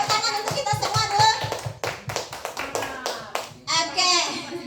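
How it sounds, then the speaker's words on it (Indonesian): A small group claps along in a quick, rhythmic burst of hand claps while people talk over it, then the clapping fades into continued speech. "Tepuk tangan untuk kita semua dulu."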